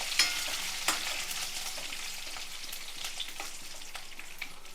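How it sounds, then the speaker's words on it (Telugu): Sesame seeds, cumin and curry leaves fry in hot oil with a steady, close sizzle and scattered sharp pops and crackles, with no voices. "బాగా వేగాలండి, కొంచెం దూరంగా రావాలన్నమాట."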